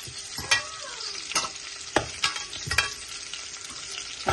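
Onion frying in oil with a little turmeric, being stirred in a pan: a continuous sizzle broken by several sharp scraping clacks of the spoon against the pan at an uneven pace, close and fairly loud.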